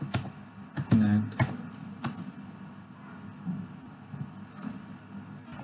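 Clicky keystrokes on a computer keyboard, a few sharp taps in quick bursts then lighter sparse presses, close and fairly quiet, with someone talking softly in between.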